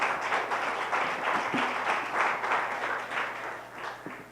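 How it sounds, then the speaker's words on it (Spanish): A church congregation applauds in steady, moderately loud clapping that continues throughout, with no talk over it. "Un aplauso al Señor."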